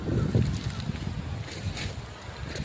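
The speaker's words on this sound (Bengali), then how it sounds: "কত সুন্দর হাওয়া হচ্ছে জায়গায়।" Steady wind blowing across an open green field, a close, continuous low rushing buffet on the microphone with no clear pauses.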